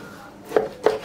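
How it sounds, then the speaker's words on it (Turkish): A knife chops raw chicken breast into cubes on a board, two distinct sharp thuds about a third of a second apart, close and clear. "İlk önce tavukları doğrayarak başlayacağım."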